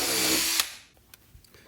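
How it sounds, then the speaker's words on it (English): A 5/16 bit drills a starter hole for a jigsaw blade in a dust separator lid for a 5-gallon bucket. The power drill whines loudly for about half a second, then cuts off, leaving a few faint knocks. "I used a 5/16 bit to drill a hole to be able to start my jigsaw."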